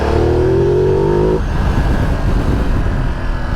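Riding aboard a 2022 Ducati Multistrada V2S, a loud engine note climbs steadily in pitch, then gives way to a broad roar with heavy wind rush, with no voices.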